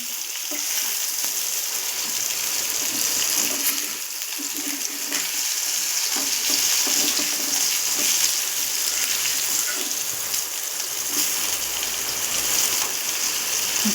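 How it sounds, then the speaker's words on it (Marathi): Rawas (Indian salmon) fish pan-frying until crisp, a steady loud sizzle and crackle running unbroken throughout with no voices. "हे छान खरपूस भाजून घेऊया आपली रावस फिश"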